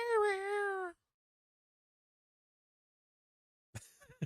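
A female cat at the door gives one long, loud, drawn-out meow, then silence before a voice starts talking.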